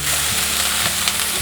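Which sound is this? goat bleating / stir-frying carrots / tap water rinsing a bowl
stir-frying carrots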